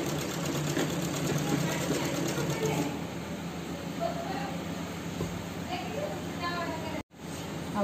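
A sewing machine stitches a pant in a steady, fast mechanical whir that runs almost without pause, close by, with a voice faintly under it.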